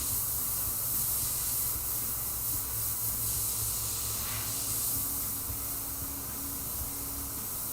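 An airbrush sprays primer onto a wooden skull panel, giving a steady, continuous close hiss of fine spray that runs unbroken throughout with no talking.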